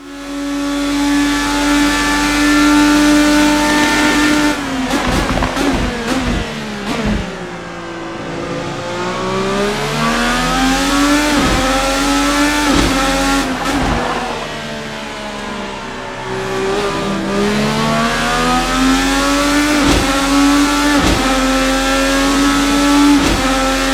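A Formula Americas IndyCar engine on a racing sim, screaming loud and close as it revs through repeated upshifts and downshifts, its pitch climbing and dropping over and over without pause.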